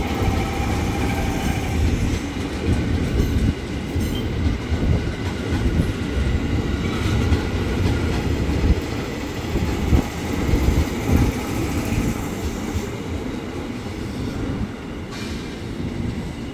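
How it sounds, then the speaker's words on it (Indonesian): A KRL commuter train rolls along track 13 at the upper level of Manggarai station, a steady, loud rumble and rattle of wheels and cars that holds throughout, faint squeal at the top. "Jalur 13 KRL-nya sampai Manggarai"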